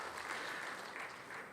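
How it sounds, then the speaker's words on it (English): Brief, steady burst of audience applause following presentations at a public health conference, a dense wash of clapping hands sustained at even loudness throughout. "Please, a big round of applause to all our presenters."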